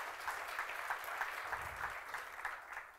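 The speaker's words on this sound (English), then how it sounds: "Big round of applause for Jeff." Audience applause with distinct rhythmic clapping from a modest crowd, steady and moderately loud for a few seconds.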